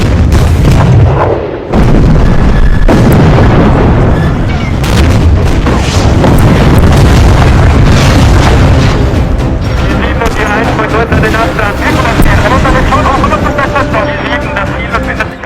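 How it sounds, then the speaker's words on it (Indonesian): Soviet artillery firing on German troops in a war film: heavy booming blasts and explosions rolling continuously, loud and close, with a sharp hit early on and a dense rumbling barrage throughout, mixed with voices. "artileri Uni Soviet mulai menyerang tentara Jerman"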